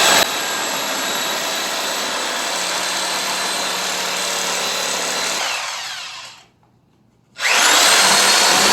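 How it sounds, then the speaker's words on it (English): A Sawzall reciprocating saw cuts through a snowplow wing, a loud, steady buzzing grind running for about six seconds before fading into a brief silence, then the cutting starts up again at full volume. "It does look like the Sawzall is the way to cut this."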